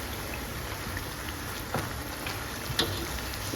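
Papri chaat dough puffing up as it fries in a small frying pan, a steady close hiss of sizzling oil with a couple of faint pops and crackles.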